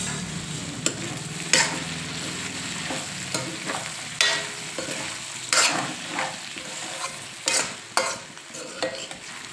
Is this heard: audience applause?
no